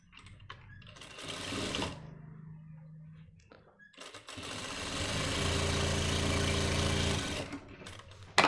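A sewing machine stitches the front pocket of men's pants in bursts. Short runs of rapid needle chatter are separated by pauses, and a longer steady run comes near the end.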